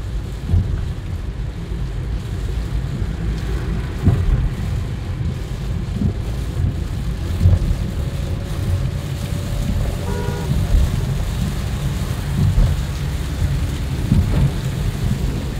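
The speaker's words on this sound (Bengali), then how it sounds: "জোরে বৃষ্টি আছে।" Heavy rain pours steadily with a dense, constant roar, and faint low rumbles sit underneath.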